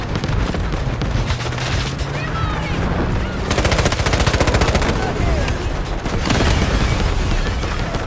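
Explosions in the Delta Force shooter game, with loud deep booms buried in dense, nonstop machine-gun fire throughout.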